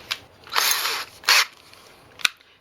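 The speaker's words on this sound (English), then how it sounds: "if you go slow with the drill, you should be able to let it do the tapping" A power drill drives a thread tap into a threaded insert on an FX Bobcat air rifle bipod mount, two short whirring bursts of the motor followed by a single sharp click, heard close up.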